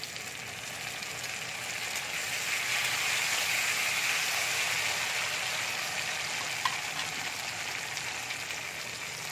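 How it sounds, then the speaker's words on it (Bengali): Tomatoes frying in a pan with onions and spices, a loud continuous hissing sizzle that swells in the middle and stays close and even, with one small clink near the end. "এবার আমি টমেটোটা দিয়ে দিচ্ছি"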